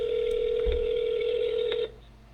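A single steady telephone tone sounds for nearly two seconds while a call is placed, clear and moderately loud over faint background hiss, then cuts off.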